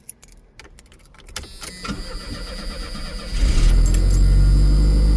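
Keys jangle and click in the ignition of a small car before the engine cranks and catches, settling into a loud, steady close-up idle.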